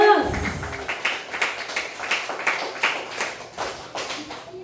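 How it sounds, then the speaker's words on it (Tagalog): Church congregation clapping for God at a Sunday worship service, a burst of rhythmic hand claps from many people that rises and settles into a steady beat, fairly close. "isang malakas na palakpak para sa Diyos"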